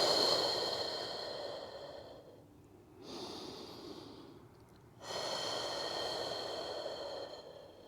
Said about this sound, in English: Long, slow, cleansing breaths.